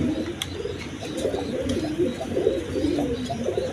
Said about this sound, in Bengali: খুব ডাকার কবুতর এগুলো ডাকও ডাকে